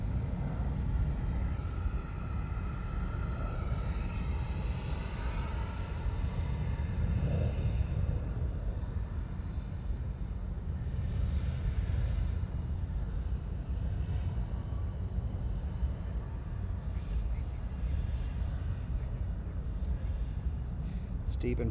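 An American Airlines Airbus A320 airliner at Charlotte Douglas airport, a broad steady engine roar that holds throughout, with talk over the top.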